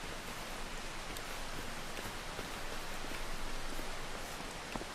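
Rain in the video game Farming Simulator 25, heard as an even, dense hiss of falling rain that holds steady throughout, with no talking.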